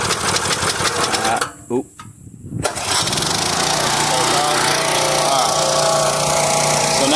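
A Stihl Dirt Boss 2700 psi pressure washer's gas engine catches and settles into a loud, steady running drone close by, with a brief dip as it starts and a person speaking briefly over it.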